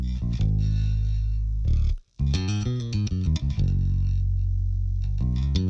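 A gospel keyboard and bass mix in Pro Tools with the distortion plugin bypassed, sustained chords and moving bass notes playing loud and continuous, broken by a brief dropout near the middle.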